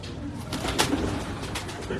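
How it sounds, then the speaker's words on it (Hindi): Pink-eyed pet pigeons coo softly on a rooftop in Karachi, a few low murmuring calls repeated over a faint background hum with no clear talk. "ऐसा ही ये गुलाबी आंख वाला कबूतर जी"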